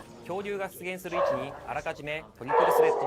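A close dog barks and yips in short, pitched bursts, some sliding up like whines, in a fast, uneven string.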